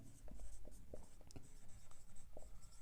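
Chalk or marker strokes on a board during a Class 11 physics lesson on error analysis, a steady run of short scratchy strokes and taps, close and clear, with no voice.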